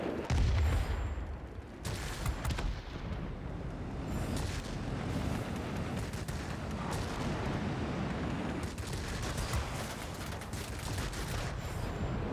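Aircraft guns fire in World of Warplanes, tier VIII multirole fighters. A dense, continuous rattle of rapid cannon and machine-gun fire runs over a steady engine roar, with a few sharper bursts standing out.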